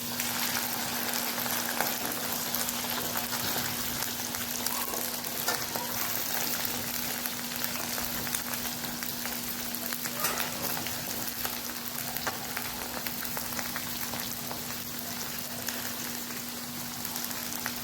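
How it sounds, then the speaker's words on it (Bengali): Okra frying in a pan on a gas stove, the first step of an okra and potato dish, gives a steady, continuous sizzle throughout, even and close, with a faint constant hum beneath. "আগে ভেন্ডিটা ভালো করে ভেজে নেবো।"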